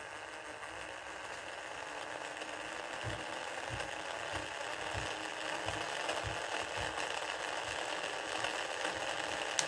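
A small model vehicle's electric motor runs flat out at top speed, a steady mechanical whir with faint ratcheting, gear-like clicks, close and constant throughout.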